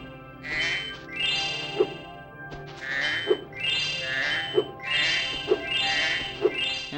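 Frog-like croaking enemy in the Spyro 2 video game, giving repeated loud, bright croaks in bursts about every second and a half, each with a low thump, over steady game background music.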